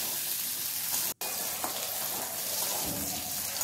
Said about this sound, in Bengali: আলুটা দিয়ে একটু নাড়াচাড়া করে ভালো করে কিছুক্ষণ আলুটাকে ভেজে নিতে হবে